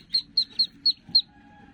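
Newly hatched ducklings peep close by: five short, high chirps in a quick, fairly even series, fading into faint background hum.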